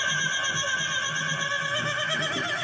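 A keyboard's multipad Chinese kit 2 percussion one-shot rings out with bright, sustained metallic tones and a shimmering, held texture, played alone and fairly loud.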